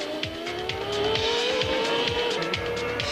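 A 1994 Benetton Formula 1 race car on track, its high-revving engine a loud, continuous whine close by, with a hint of tire squeal and no voices.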